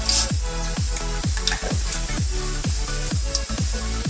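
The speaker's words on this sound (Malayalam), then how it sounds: "ഇപ്പൊ എണ്ണ നന്നായി ഹീറ്റ് ആയിട്ട് വന്നിട്ടുണ്ടെങ്കിൽ അതിലേക്ക് നമുക്ക് പട്ട, ഗ്രാമ്പു, ഏലക്കൊക്കെ ഇട്ട് കൊടുക്കാം." Whole cinnamon, cloves, cardamom and fennel seeds crackle and sizzle in hot oil for a biryani. A spoon stirs them with steady, repeated scrapes, and nobody speaks.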